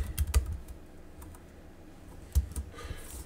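Keys tap on a computer keyboard in short bursts, a few quick clicks at the start and again near the end with a quiet pause between, close and fairly soft.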